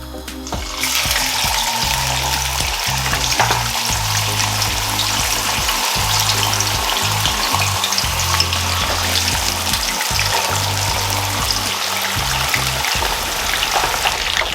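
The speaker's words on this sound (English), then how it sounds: "now started to fry the fish" Jamaican escovitch fish fries in hot oil with a loud, dense, continuous sizzle and crackle, heard close up and unbroken throughout with no talking.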